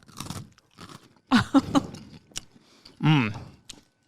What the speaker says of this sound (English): Take a bite of the cookie.